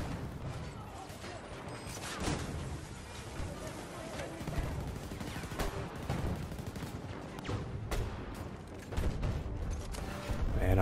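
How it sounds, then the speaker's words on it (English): Grenade launcher fire and explosions from Battlefield 2042 rumble continuously with repeated booms and sharp blasts in a dense, chaotic battle soundscape, loud and close throughout. "Man, I like this grenade launcher."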